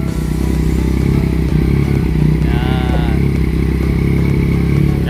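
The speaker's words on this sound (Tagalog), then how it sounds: "Pag nag-rev na lakas, grabe. Yan yung binayaran mo sa Akra." A Yamaha MT-09 motorcycle fitted with an Akrapovic exhaust runs with a loud, deep engine rumble throughout, one brief higher-pitched rev rising in the middle, with faint background chatter.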